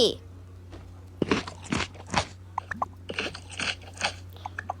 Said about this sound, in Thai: นี่ลิลลี่มากินข้าวได้แล้ว